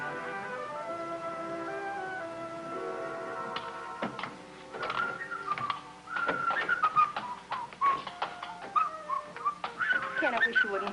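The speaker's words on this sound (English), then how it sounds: "I wish you wouldn't whistle in the house" Someone whistles a tune, first in long sustained notes, then in quicker, choppier phrases with soft clattering in the background.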